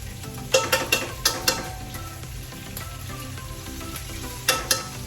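Garlic and ginger frying in a pan, a steady close sizzle under a low rumble, with a few sharp spoon scrapes clustered near the start and again near the end.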